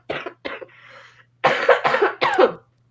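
A person coughs in a short burst: two quick coughs, a brief pause, then three more harsh coughs close to the microphone, with no speech.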